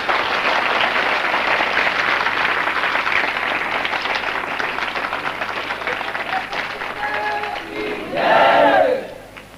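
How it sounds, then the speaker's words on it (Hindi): An audience at a religious initiation ceremony claps loudly and continuously as a dense wash of applause, swelling briefly near the end before fading. "ताली बजाइए आप जोर से"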